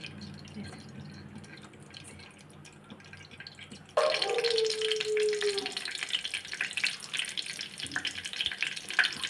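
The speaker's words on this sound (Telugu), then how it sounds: "ఆవాలు జీకర్ర మినప్పప్పు శనగపప్పు వేసుకోవాలి సో ఇప్పుడు వీటిని మంచిగా ఫ్రై చేసుకున్నాక" Quiet background at first, then a sudden burst of loud crackling sizzle as mustard seeds, cumin, urad dal and chana dal hit hot oil, continuing steadily close by.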